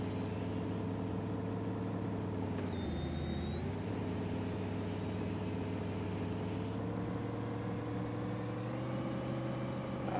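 A Kenworth W900 logging truck in a driving game pulls away from a stop on icy Alaskan highway, a steady loud diesel drone rising and dipping through slow clutch work, continuous and alone with no talk.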